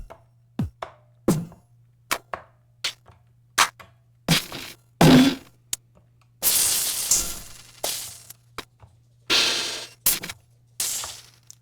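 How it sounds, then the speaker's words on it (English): AI-generated drum kit samples from the Emergent Drums plugin play one after another: a sequence of separate, punchy percussive hits, including sharp clicks, snappy cracks and longer noisy crashes, spaced apart with silence between them and a low steady hum underneath. "I pre-generated the drum kit before starting this video, and it sounds like this."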